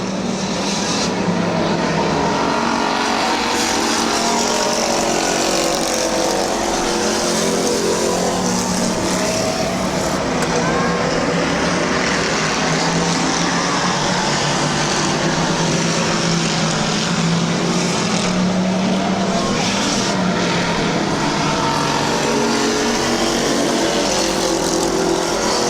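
Race cars lap Midvale Speedway in a continuous loud engine roar, dense and unbroken throughout, swelling slightly as cars pass, with a faint announcer voice buried beneath the noise.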